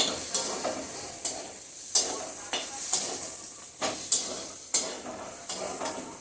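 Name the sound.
frying and stirring soybean chunks with spices in a pan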